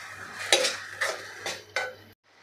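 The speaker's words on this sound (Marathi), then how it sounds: "आता यामध्येच घालायचं आहे आपल्याला इथे 1 मोठा टोमॅटो, हा सुद्धा किसून घेतलेला आणि आपल्याला हा सुद्धा तेल सुटेपर्यंत परतून घ्यायचा आहे।" Grated tomato and onion sautéed in oil in a pan, heard as four distinct scraping stirs of a spoon against the pan, each a short clattering burst at a steady pace, close and fairly quiet, with no talk.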